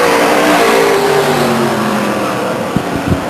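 Race cars at Stockton 99 Speedway in 1999 come out of turn four, loud engines roaring close by and fading as they pass, with a couple of sharp mechanical knocks near the end.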